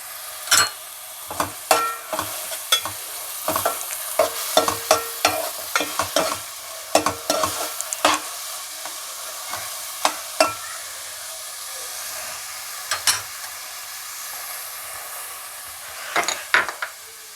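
Food frying in a pan for a Telugu fish curry made with small bommidayi fish, with a steady sizzle under repeated sharp scrapes and clinks of a spoon stirring, dense at first and sparser toward the end.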